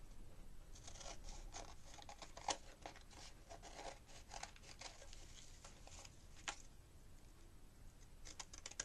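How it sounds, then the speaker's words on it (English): Scissors snip through paper card stock, trimming excess, in a quick, uneven series of faint crisp cuts, close by and quiet, with no talking. "I'm going to take the scissors and I'm going to cut away the excess"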